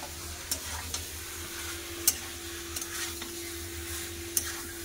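Chicken cooking with spices in a pan gives a soft sizzle over a low hum, with a few sharp scrapes and taps from the stirring spoon now and then, fairly quiet overall.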